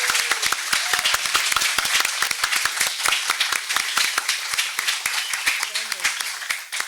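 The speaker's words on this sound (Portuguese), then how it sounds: "Eu queria pedir um aplauso" Dense, lively clapping rises from an audience at an academic conference, with crisp individual claps in a continuous, energetic stream and faint voices underneath.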